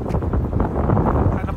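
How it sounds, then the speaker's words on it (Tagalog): Strong outdoor wind buffets the microphone on a Halloween evening in Canada, a loud, steady low roar with gusty swells that holds for the whole stretch. "Sobrang hangin."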